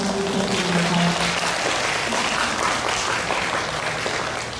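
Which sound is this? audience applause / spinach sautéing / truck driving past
audience applause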